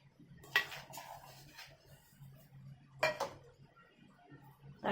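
A spoon clinks and scrapes against a bowl while mixing egg and milk batter with salted vegetables for a healthy children's recipe, two sharp clatters standing out over a low steady hum.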